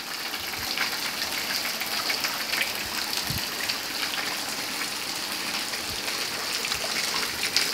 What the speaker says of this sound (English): Here is where the water gushes from the rock.